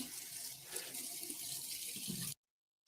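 Hot water running steadily from a bathroom tap, a close continuous hissing rush that cuts off abruptly after a couple of seconds.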